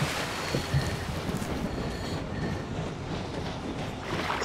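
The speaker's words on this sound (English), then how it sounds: "So that's the sound of a train." A train rumbling past in the video game Metro Exodus, a broad steady roar with some rattling and faint squeals, moderately loud and continuous.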